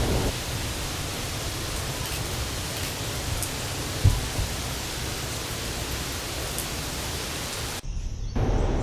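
Rain falls on a cypress wetlands bird rookery as a constant, soft broadband wash with a faint thump near the middle, cutting off abruptly near the end.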